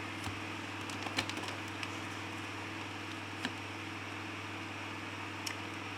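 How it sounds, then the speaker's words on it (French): A small electric table fan hums steadily at close range, a constant low drone with faint airy hiss and a few light ticks. "c'est mon petit ventilateur sur la table parce qu'il fait très très chaud."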